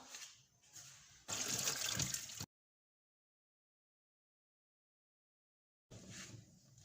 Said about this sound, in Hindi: मैंने पतीला लिया और उसमें थोड़ा सा पानी डाला है